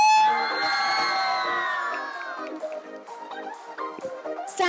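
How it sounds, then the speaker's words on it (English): A crowd of parents and children at a school graduation event cheers and shouts for the little graduates, a loud swelling roar that thins into scattered whoops and calls. "And now let's shout it out for these little ones."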